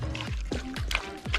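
Water pours from a whole coconut while cooking stew chicken, with a rhythmic glugging and repeated falling gurgles over a steady trickle, close and moderately loud.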